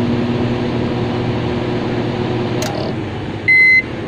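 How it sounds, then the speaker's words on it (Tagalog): Digital microwave oven running with its turntable spinning, a steady droning hum of motor and fan close by, broken near the end by a clear electronic beep. "Umiikot na siya. Tapos nagbibilang na yung kanyang timer oh."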